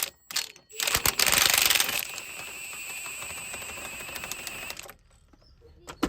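A socket ratchet turning a bolt during a clutch replacement on an Opel/Vauxhall Astra Mk4, a burst of rapid clicking, then a long steady ratcheting run that stops, close but fairly quiet, with no talking.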